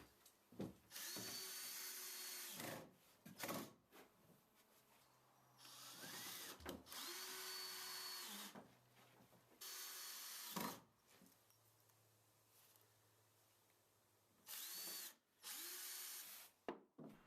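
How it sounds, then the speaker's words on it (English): A power drill whines in repeated bursts of a second or two, separated by pauses, as pilot holes for screws are bored one after another close by during wet room installation. "Drill pilot holes first, then countersink before inserting and tightening the screws."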